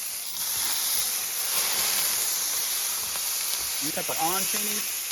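Onions and pepperoncini sizzle in bacon grease for a Mississippi pot roast style cheesesteak, a steady close hiss running throughout, with a brief voice near the end.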